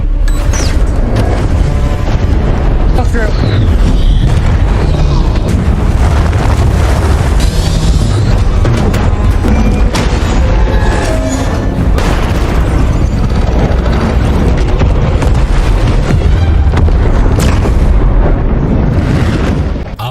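A deep, continuous rumbling underwater explosion roars loudly throughout, with heavy low booming and churning turbulence, no voices present.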